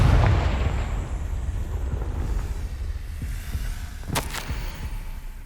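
The Confringo fire spell in Hogwarts Legacy lands as a deep rumbling blast, then settles into a low throbbing hum. About four seconds in comes a sharper crackling burst, with no voices over it.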